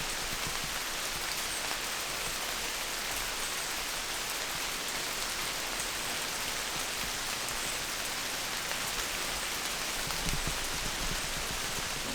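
Steady rain falls in North Carolina throughout, an even hiss of drops on surfaces with no voices.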